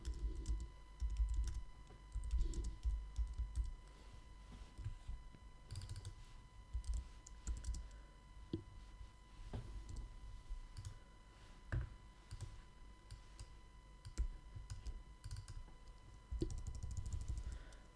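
Computer keyboard typing text, quiet irregular clicks in short bursts with brief pauses, close up and faint under a steady low electrical hum.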